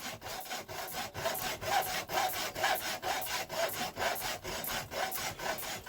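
A hacksaw cuts back and forth through the fuel pipe of a Lister Petter diesel engine, about a dozen steady rasping strokes, loud and close with no talk.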